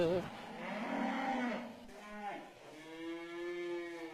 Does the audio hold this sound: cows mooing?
yes